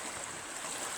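A small stream, the ruisseau de Fée near the village of Blé, gives a steady, soft, hissing rush of flowing water for about a second, quiet and unbroken, with no voices over it.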